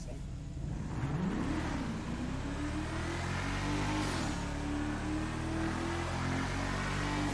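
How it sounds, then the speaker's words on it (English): An armored car's engine roars and revs in the video game GTA 5, a loud continuous drone climbing in pitch as it accelerates, with a brief shift midway. "Yours seems lighter on the engine roar."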